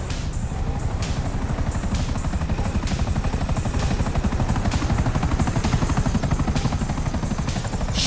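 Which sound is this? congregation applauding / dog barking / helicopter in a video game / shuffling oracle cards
helicopter in a video game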